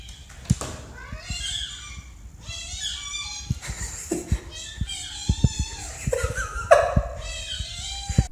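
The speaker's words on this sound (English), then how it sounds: "This cat sounds exactly like a squeaky toy." A cat gives several squeaky, high-pitched meows that sound like a squeeze toy, short cries spread across the stretch with faint background noise and no speech.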